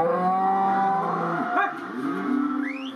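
Beefmaster cattle lowing on a large grazing farm, with long, drawn-out harmonic moos that overlap and rise in pitch toward the end, fairly loud and close with no talk.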